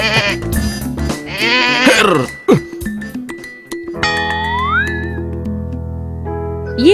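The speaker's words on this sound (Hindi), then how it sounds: "ये बकरी कहाँ से ले आए हो तुम?" A cartoon goat bleats in a series of wavering, drawn-out calls, loud and close, mixed with music and sound effects.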